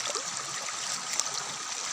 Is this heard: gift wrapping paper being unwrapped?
no